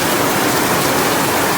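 Heavy rain pouring at a beach campsite, a dense, loud, continuous hiss of drops drumming steadily on surfaces close by, with no voices.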